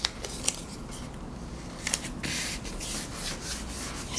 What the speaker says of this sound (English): we're going to put some painter's tape on there and create a hinge